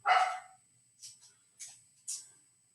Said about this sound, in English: Guys, if you can hear the dogs at home, we're sorry.